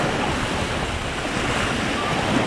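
Waves surge and churn steadily against the shore as the tide rises, a dense, continuous close-up roar with wind noise on the microphone and no talking.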